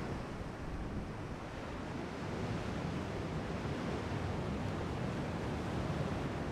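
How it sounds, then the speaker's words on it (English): Heavy storm at sea in the warship game Ultimate Admiral Dreadnoughts: a dense, unbroken rush of wind and surf, even and moderately loud throughout, with no voices. "A nasty storm at that."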